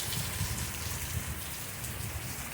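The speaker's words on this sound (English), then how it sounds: "It is raining." Rain falls outside in a steady, soft patter on surfaces, a continuous hiss heard alone at low level with no voices.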